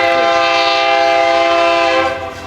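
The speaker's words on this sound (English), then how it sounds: "Train coming, so" A passing train sounds its horn loudly and up close, a sustained multi-tone blast that holds steady and then tapers off as the train rolls by.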